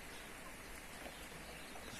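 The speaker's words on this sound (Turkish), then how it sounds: "Çok hızlı bir yağmur yağıyor görüyorsunuz." Heavy, fast rain pours in a steady, dense hiss with no breaks, close and even, with no talking.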